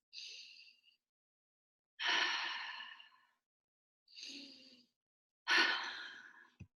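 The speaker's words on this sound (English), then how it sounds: "we'll take 2 deep breaths" A group breathing deeply together, four long audible breaths with pauses of silence between them, alternating softer inhales and fuller, louder exhales, close and unaccompanied by talk.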